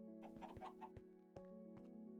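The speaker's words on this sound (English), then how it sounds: "But I hear them, they're up there." Minecraft chickens clucking in short, soft bursts over a steady hum of game background audio, a few scattered clucks spread across a couple of seconds.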